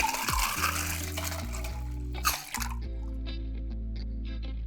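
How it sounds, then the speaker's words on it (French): A caipirovska cocktail with crushed ice is poured from the shaker tins into a short rocks glass, giving a quick splash and trickle of liquid with ice rattling in, then a quieter drip over a low steady background hum. "versez le tout directement dans un verre court"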